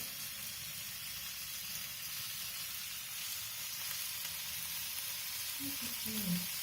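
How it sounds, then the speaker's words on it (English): Bacon sizzles steadily in a pan, a continuous close hiss of frying fat that holds at an even level throughout with no talking. "You can see the bacon simmering really well"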